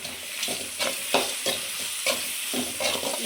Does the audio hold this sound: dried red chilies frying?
yes